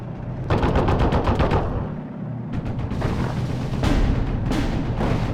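Rapid bursts of tank and machine-gun fire in the World War II game Steel Division: Normandy 44, with an M4A1 medium tank in action; loud clattering volleys stop briefly, then resume with heavy thuds and further rattling fire.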